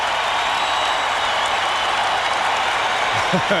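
A packed basketball arena crowd roaring during a 1995 playoff game between the Magic and the Bulls, a dense, sustained wall of cheering heard continuously at high level.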